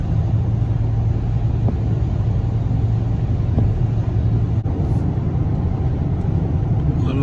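A car drives along a foggy seashore road, its steady low engine and road rumble heard from inside, continuous and fairly loud throughout.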